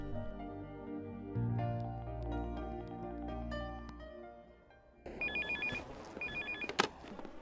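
Telephone ringing in a movie scene, with a repeated electronic ring tone in short bursts that comes in after a stretch of background music.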